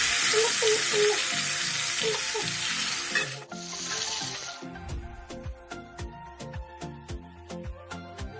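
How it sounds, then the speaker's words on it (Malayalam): Fish sizzling loudly on a hot tawa for a Kerala-style fish fry, an intense hiss that drops abruptly partway, followed by a rhythmic series of sharp taps and knocks from the pan. "നമുക്ക് തവ വെച്ചതിന് ശേഷം നമുക്ക് മീൻ പൊരിക്കാം."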